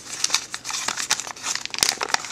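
Paper being folded and creased for an origami pinwheel, close crinkling and sharp crackles in quick irregular bursts, with no talk.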